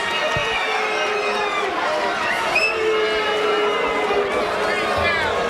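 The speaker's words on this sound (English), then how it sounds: "Crowd doesn't like it" Boxing crowd in a ballroom reacting to a unanimous decision, a dense, steady roar of voices, shouts and babble filling the space, loud and continuous throughout.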